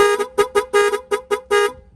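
Close, loud Sniper 155 motorcycle horn honks in a quick rhythmic sequence of roughly eight beeps, some clipped short and some held a bit longer, ending abruptly.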